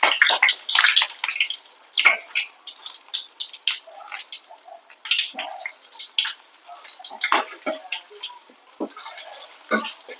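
Mashed potato snack with a maida coating deep frying in hot oil, giving a steady, close crackling sizzle with dense bursts of popping and spitting that rise and fall throughout, with no voices.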